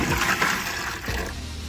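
Steady rushing pour of water filling a homemade reptile egg incubator, loud and continuous, with no one speaking over it.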